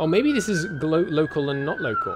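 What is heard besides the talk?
police siren heard through open window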